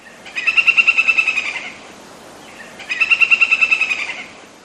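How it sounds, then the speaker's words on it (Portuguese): A snail kite, the gavião caracoleiro, gives two clear bursts of rapid, cackling notes that sound like laughter, each lasting about a second and a half, with a short pause between them over a steady background hiss. "Outro que parece que tá dando risada é o gavião caracoleiro."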